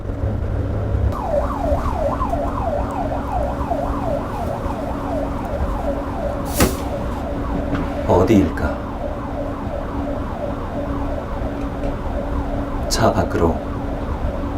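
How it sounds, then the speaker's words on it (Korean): A wailing emergency siren sounds from outside a car moving along a Korean highway, its rising and falling cycles steady under road noise, while a voice speaks briefly. "사이렌 소리가 들린다"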